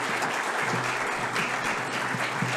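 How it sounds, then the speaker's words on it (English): An audience at an evening science lecture on coral claps for the speaker, a full, sustained wash of applause from many hands, with faint voices mixed underneath. "help me give one more big round of applause to Dr. Sneed."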